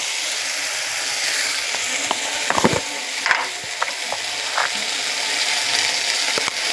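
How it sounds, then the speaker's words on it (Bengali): Spices with black cumin sizzling in hot oil in a pan while being stirred, a soft continuous fry broken by scattered scraping and clicking of the spoon against the pan, with no talking. "একটু নাড়াচাড়া করব।"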